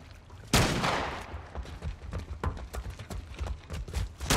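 Gunfire in the video game The Last of Us Part 1: one loud sharp shot opens, followed by a run of quicker, quieter bursts and impacts.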